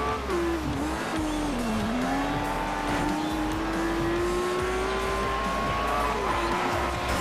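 A Lamborghini in the racing game Forza Horizon 2 roars at speed in the rain, a loud steady engine whine rising and dipping through gear changes with tire squeal, continuous and alone.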